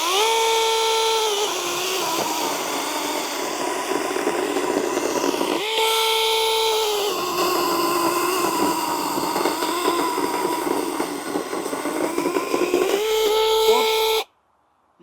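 A ProCraft PKA 45 cordless mini chainsaw cutting wood, its high whining motor running loud and close in two long bursts with changes in pitch under the load.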